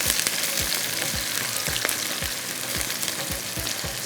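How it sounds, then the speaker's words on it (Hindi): Onions frying in a pan for mutton biryani, a constant bright sizzle with repeated sharp spatula scrapes and taps at a steady rhythm, close and alone without talk. "तो प्याज को करते हैं अच्छी तरह से हम यहाँ पर फ्राई।"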